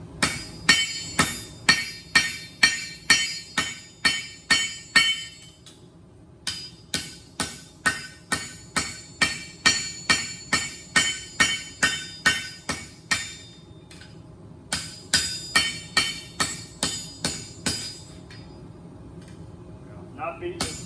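Hot steel being hammered at a forge, a long run of sharp, ringing metallic blows in a steady rhythm, loud and close, with brief pauses between bursts and no talk over them.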